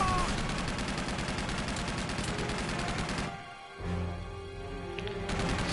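Rapid turret gunfire from Uncharted 2 rattles in dense continuous bursts, breaks off briefly for a moment, then resumes at full intensity.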